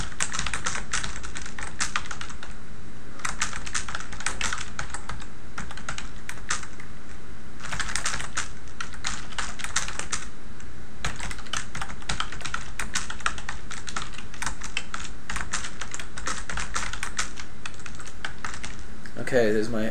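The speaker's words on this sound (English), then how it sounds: "so let's start typing." Rapid, steady clatter of keys on a computer keyboard, continuous and close, with irregular bursts of faster typing throughout.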